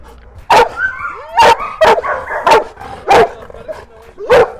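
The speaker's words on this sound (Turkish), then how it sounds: "Ya Tonti sen havlaman bile çok tatlı ya." A dog at an animal shelter barks sharply six times at fairly regular intervals, close by, with softer whining and yips between the barks.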